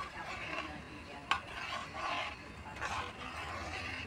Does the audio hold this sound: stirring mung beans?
yes